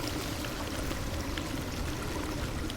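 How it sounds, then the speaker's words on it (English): Steady broadband rush of water pouring and streaming into a drain on a flooded city street in the game Drain Sim, constant and fairly loud with no talk. "it's just too much water for the drain to handle"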